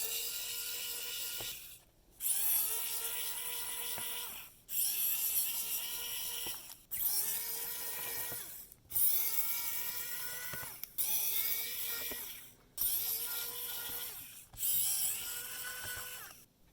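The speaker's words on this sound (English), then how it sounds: "the back cover contains these 10 screws which I'm highlighting here, and you have to remove with the P5 or T5 screwdriver tip" A P5 or T5 screwdriver backs out the back cover screws on a MacBook Air A2337, bursts of fine whirring and rasping turning, close and clear, repeated about eight times with short gaps between, and no voices.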